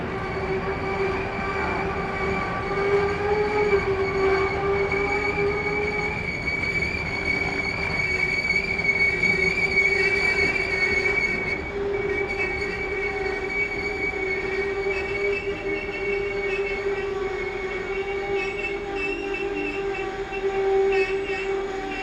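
A freight train passes through Peterborough station, with a long continuous rumble of wagons and sustained tonal wheel squeal, steady and fairly loud throughout.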